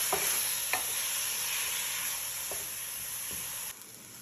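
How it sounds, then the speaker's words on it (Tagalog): Chicken pieces sizzle in a pan with olive oil while being stirred, a constant frying hiss broken by a few soft scraping clicks and fading slightly near the end. "Mix ko lang siya hanggang mag-white yung chicken."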